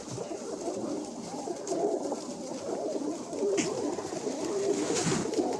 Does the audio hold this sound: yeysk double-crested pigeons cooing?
yes